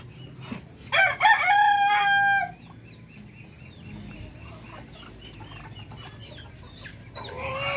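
A rooster crows loudly near the start, followed by soft clucking and scattered fowl noises from free-range chickens and ducks against quiet outdoor ambience.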